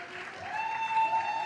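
Applause from an audience at a women in entertainment awards event, a short burst of steady clapping that builds slightly in loudness.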